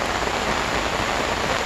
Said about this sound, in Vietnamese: Các bác nhìn mưa nó đang đi kìa.